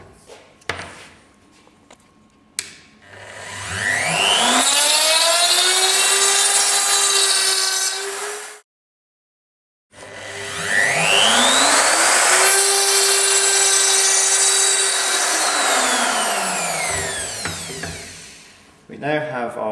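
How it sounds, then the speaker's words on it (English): A router cuts a rebate scribe line into wood on a Trend CDJ300 dovetail jig, two loud sustained whining passes with rising then steady pitch, separated by a brief silence, with light handling knocks around them. "I'm going to cut a rebate"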